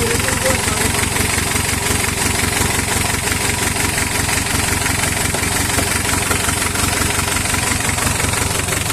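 An Isuzu 4BA1 diesel engine idles steadily and loudly up close, with an even, continuous rumble and rapid mechanical clatter that holds through the whole stretch, while someone talks over it.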